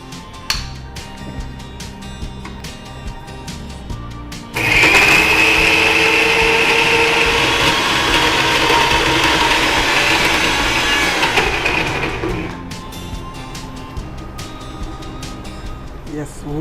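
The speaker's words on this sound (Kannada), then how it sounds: "ಉದ್ದು ಮತ್ತು ಅಕ್ಕಿ ಮಿಕ್ಸಿ ಆಗಿದೆಯಲ್ಲ" A kitchen mixer grinder whirs loudly for several seconds grinding soaked urad dal and rice into a thick batter, starting abruptly and cutting off, with people talking before and after.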